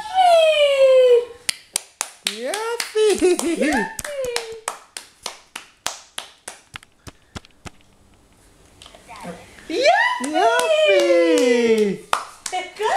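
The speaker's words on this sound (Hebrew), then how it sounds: "תמחאי לו כפיים." Hands clapping for a baby, a quick run of about a dozen sharp claps in steady rhythm, close by, between bursts of a woman's cheerful speech.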